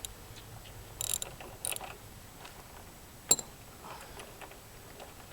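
Faint ratcheting clicks come from 6mm Allen head bolts being started on the grab rail of an NC700X motorcycle, with a few brief metallic ticks and one sharp click close by.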